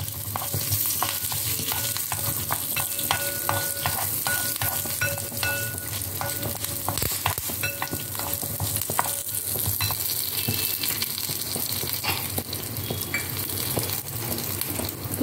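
Urad dal and curry leaves fry in hot oil as a loud, continuous crackling sizzle full of rapid pops and sputters, with a faint scrape of stirring underneath.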